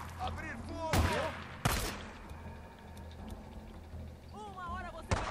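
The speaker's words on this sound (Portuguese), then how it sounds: "Eu tomei um tiro! Ele atirou em mim!" Gunfire in the zombie-survival video game Days Gone, two sharp loud shots about a second apart standing out against game ambience and music, with a chirpy electronic effect near the end.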